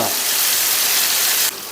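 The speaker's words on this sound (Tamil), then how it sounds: "நல்லா கொதிக்குதாப்பா" Loud hissing sizzle of Kaveri river fish frying in hot oil, a dense crackling rush that drops slightly near the end.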